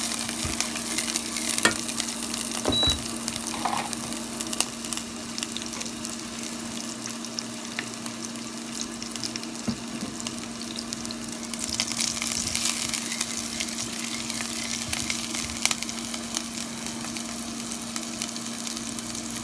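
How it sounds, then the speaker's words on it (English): Onions frying in heated oil on a stovetop for a brown rice pilaf, a steady close sizzle and crackle with a constant hum underneath and occasional stirring clicks, no talking. "now that our oil is heated up, we're going to add our onions."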